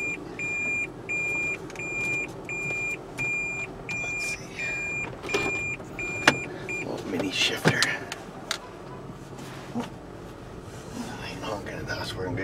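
A Toyota Prius sounds its reversing backup beeper, a steady series of evenly spaced high electronic beeps over a low cabin hum, followed by creaks and rustling, with a person talking nearby.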